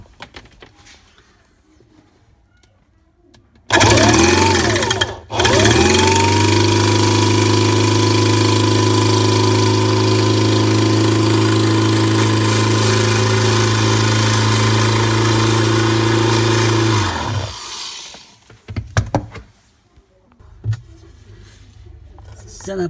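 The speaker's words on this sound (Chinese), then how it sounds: "现在把这个帽给它钻坏，然后就掉下来了" An electric drill bores out a screw cap, a loud steady whine with a short break partway through, running close for about fourteen seconds before spinning down, with quieter handling noise before and after.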